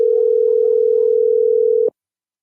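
A steady, loud telephone dial tone holds for about two seconds during a radio call-in, then cuts off abruptly with no talk over it.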